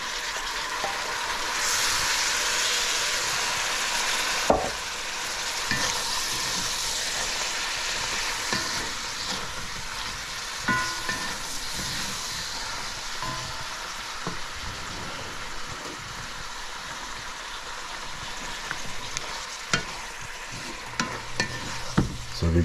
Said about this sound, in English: then we'll put our eggplant in there and then cover it again and let it all saute and grab the flavor